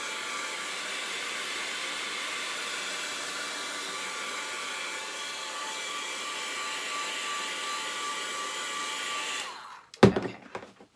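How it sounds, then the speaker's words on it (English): A heat gun blows a steady, loud hiss of hot air across a freshly painted spring craft sign for nearly ten seconds, then cuts off with a brief clunk as it is set down. "I'm just going to take my heat gun."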